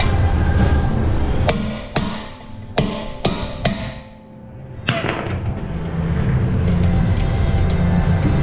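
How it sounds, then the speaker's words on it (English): Hammer blows on a seized rear brake rotor of a 2014 Hyundai Elantra, about seven sharp metallic strikes at irregular intervals, close and loud over a steady low engine or traffic rumble. "So what you gotta do is hammer it and turn at the same time."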